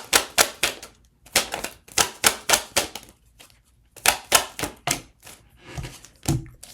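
Tarot cards being shuffled and drawn for a Gemini reading, heard as quick bursts of crisp riffling snaps in several clustered runs with brief pauses between them, close and fairly loud, no talking.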